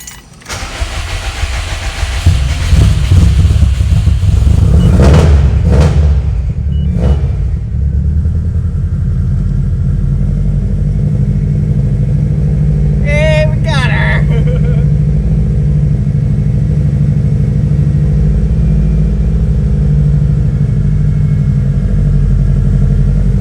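A 2004-2006 Subaru STI fitted with DeatschWerks 740cc side-feed injectors cranks on its starter for several seconds, then catches and settles into a loud, steady idle close by.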